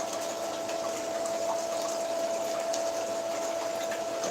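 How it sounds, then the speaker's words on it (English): Water running steadily in an indoor grow room, a constant pumping, gushing flow with a fixed mechanical hum, moderately loud and unbroken with no speech. "Wasn't sure if this water is going to overpower my"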